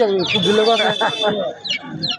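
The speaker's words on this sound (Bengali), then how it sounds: "সব দেশি মুরগি সব গ্রামের মুরগি" Local village chickens cluck and squawk close by at Hironpur village market, Purbadhala, a busy outdoor setting, a short burst of overlapping fowl calls.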